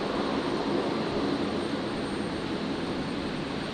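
A Rex Saab 340 turboprop taxis into the domestic terminal at Brisbane Airport after landing, giving off a steady, even engine drone that holds at the same level throughout with no talk over it.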